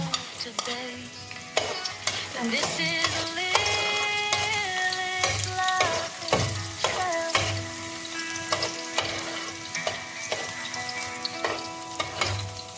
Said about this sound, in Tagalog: Gisa natin yung bawang.